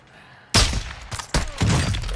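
Sudden bursts of loud, sharp gunfire in the video game Warzone 2.0, three quick volleys close together after a quiet start, harsh and crackling.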